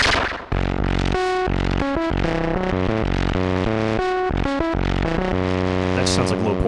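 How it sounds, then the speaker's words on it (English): Plasma Voice synthesizer in Static mode gives glitchy, heavily distorted tones: loud, dense buzzing notes that start and stop abruptly in a stuttering, choppy pattern, with no talking. "Static sounds like glitch elements."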